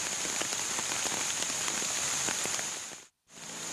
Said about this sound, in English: The welcome rains are light at first